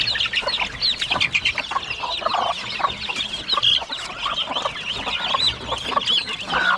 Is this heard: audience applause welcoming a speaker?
no